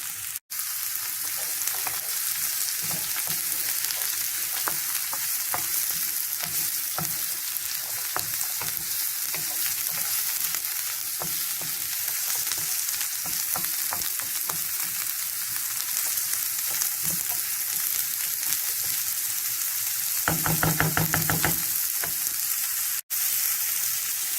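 Carrots fry in a hot pan, giving a dense, continuous sizzle with occasional crackles and a brief burst of stirring near the end, close and steady.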